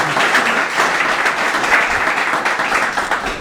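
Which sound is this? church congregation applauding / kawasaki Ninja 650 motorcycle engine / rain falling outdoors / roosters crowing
church congregation applauding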